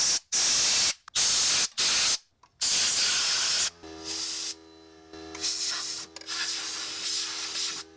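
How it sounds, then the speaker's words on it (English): Short loud bursts of compressed air hissing around the spark plugs of a 2010 Chrysler Town & Country engine, several sharp blasts with brief gaps, followed by longer, softer blowing. "blow off the area around each spark plug with some compressed air"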